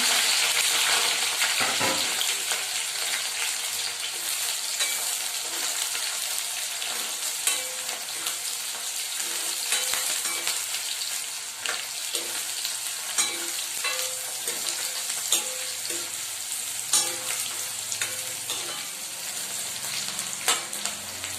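Garlic, onion, bay leaf and chili frying in a pan for a chicken dish with ash gourd: a loud continuous sizzle with frequent sharp crackles and stirring clatter throughout, close up and without speech.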